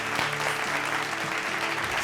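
An audience applauds steadily to welcome the guest, Seth Sahab, onto the stage of a business talk show, the clapping dense and continuous throughout.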